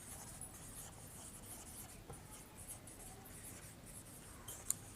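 Someone writes on a board during a physics lecture on gravity, making a faint, continuous scratching and rubbing close by, with one small tap near the end.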